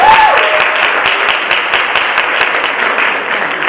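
An audience at a high school Hispanic culture club hall of fame induction ceremony claps for the young club members, a loud, sustained round of applause filling the hall with no pauses.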